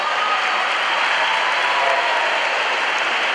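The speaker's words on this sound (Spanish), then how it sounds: "Un fuerte aplauso." Steady, dense applause from an audience fills a municipal school excellence awards ceremony in Toa Baja, continuous and even throughout with no voices over it.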